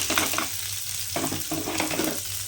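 Steady sizzling of onions frying in a pan, with occasional stirring scrapes over a constant hiss.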